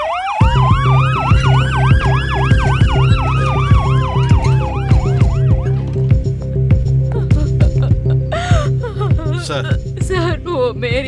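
Ambulance siren wailing loudly and close, its pitch sweeping up and down in long cycles, over a constant engine drone, then shifting to a faster yelp near the end.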